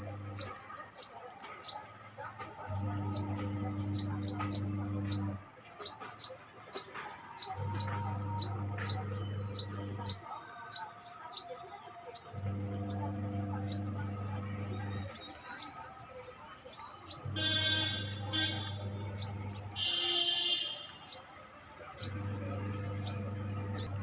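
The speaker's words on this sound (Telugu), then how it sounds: "అసలు చూడండి అసలు ఎన్ని పక్షులు" Many birds chirp and tweet around flowering yellow allamanda plants, bright short calls repeating in quick bursts, with a low periodic hum pulsing beneath at regular intervals.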